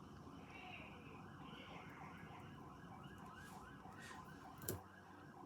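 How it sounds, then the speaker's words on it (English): A wailing emergency siren rises and falls in a steady repeating sweep, faint and distant over low background rumble. "he probably can hear the sirens and all that"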